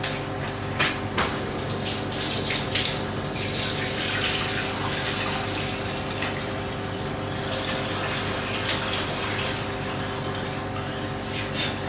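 Water runs steadily from a tap, a continuous rushing hiss close by that holds without pause, with no talk over it.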